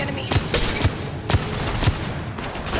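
Automatic weapon fire in Apex Legends Mobile comes in four or five short bursts, evenly spaced at about half-second intervals, sharp and close over steady game background noise.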